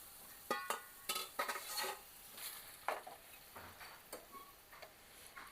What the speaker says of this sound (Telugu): ఇలా ఒకసారి కలిపేసుకుంటే ఇంకా చేపల పులుసు అయితే 5 మినిట్స్ అయితే ఆయిల్ ఇలా మగ్గనిద్దాము.